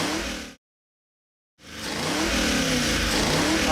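A 430-horsepower Ford E-Rod crate V8 running on an engine dyno, a loud steady roaring drone that cuts out briefly to silence, then swells back up and holds, with no voices.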